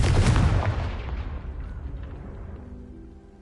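A Confringo blasting spell explodes in Hogwarts Legacy, one loud, deep boom that rumbles and slowly fades away over a few seconds.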